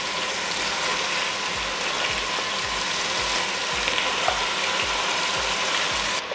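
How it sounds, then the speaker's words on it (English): Pork ribs brown in a frying pan with a loud, steady sizzle, broken by regular low knocks throughout. "we wanna just brown the ribs on both sides"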